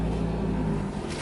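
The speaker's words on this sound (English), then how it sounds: "looks like there's a car moving in" A steady low engine rumble from a car outside an open window, continuous and moderately loud, easing off near the end.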